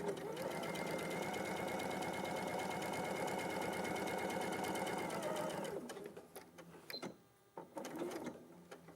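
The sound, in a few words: sewing machine stitching corduroy jacket pocket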